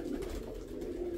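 Pigeons coo inside a dim dovecote where birds sit on eggs, a steady low cooing drone carrying on without talk.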